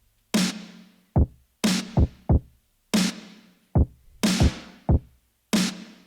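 Layered drum hits in a steady beat: bright, noisy snare strikes with a low body alternate with short, punchy kick thumps, clean and close with no talk.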